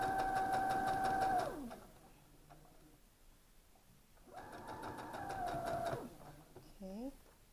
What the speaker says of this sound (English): I'm going to sew myself out of this corner first.